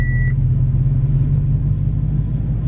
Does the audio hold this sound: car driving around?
yes